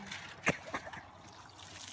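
Water trickles and drips faintly inside a flooding house, with a couple of brief splashy drips standing out against a quiet, wet background.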